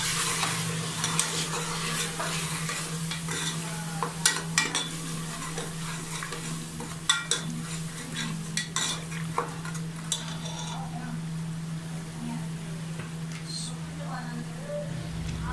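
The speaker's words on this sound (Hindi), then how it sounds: "वो इसमें शामिल करेंगे और उसे अच्छी तरह भूनेंगे।" Chili, salt and ginger-garlic paste fry and get stirred in a pot for chicken haleem, with a steady sizzle, scraping spoon strokes and occasional metallic clinks throughout.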